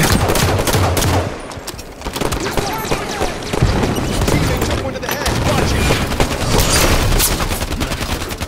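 Rapid bursts of automatic gunfire fill a Halo 5 multiplayer match, loud and nearly continuous with dense overlapping shots and impacts.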